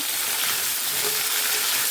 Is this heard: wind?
no